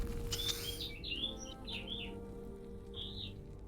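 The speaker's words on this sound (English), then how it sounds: "Ah, yes, birds." Birds chirp in a few short, bright tweets and trills, some in quick runs and one after a pause, over a quiet low background hum.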